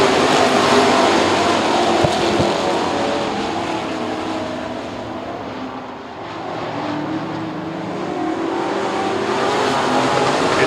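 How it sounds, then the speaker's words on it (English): Sprint cars race around the dirt oval at Lernerville Speedway in Western Pennsylvania during Sprint Speedweek. The engines hold a loud, steady roar the whole time, dipping slightly midway as the pack swings past and then building again. "Jacob Dietz underneath Joey Zambati for the second spot as they complete lap 1."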